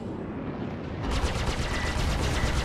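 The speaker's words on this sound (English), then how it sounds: "Lock missile. Aye. Fire missile." Missile and weapons fire from a Super Hornet fighter in the space game Star Citizen: a sudden, loud, rapid string of repeated blasts begins partway through and continues steadily to the end, without speech.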